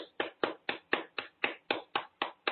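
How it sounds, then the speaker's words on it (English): A person claps their hands, about ten even, sharp claps in a steady rhythm, close and clear, with no other sound between them. "Start applauding there."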